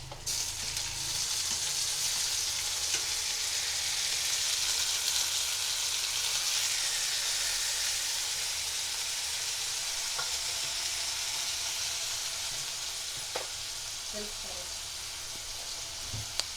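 Homemade garlic paste sizzles and fries in a pan as it is stirred, a steady close crackling hiss with occasional scraping taps toward the end.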